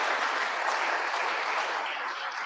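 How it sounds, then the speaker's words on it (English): Dense, continuous audience applause for the presenters at a startup pitch night, a full room clapping steadily at even loudness throughout with no voices over it. "can we just give one round of applause for all the presenters"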